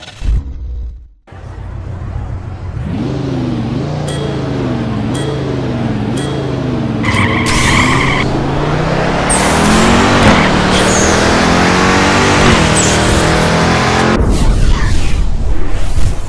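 A street-class DeLorean DMC-12 drag car on nitrous launches with a loud, close engine roar that climbs through several rising gear pulls, then holds a sustained high-revving blast before dropping off, with some voices faintly underneath.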